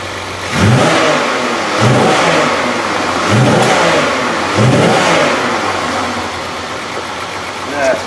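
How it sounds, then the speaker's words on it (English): A Buick LeSabre engine is revved repeatedly, four rising bursts of throttle about a second apart, each falling back toward idle, loud and close. "Let's rev it up, see what happens."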